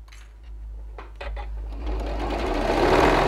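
A sewing machine stitches fabric scraps for a gift card case. A few soft mechanical clicks lead into a steady, loud whirring run that builds and continues to the end, close up and with no voices.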